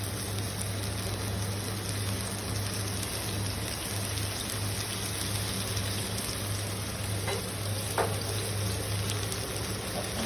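Clams stir-fried with oyster sauce sizzle in a hot pan, a steady, dense crackling hiss that holds evenly from start to finish with a couple of brief louder spatters.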